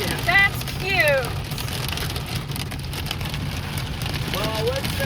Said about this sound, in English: That says pea-sized hail.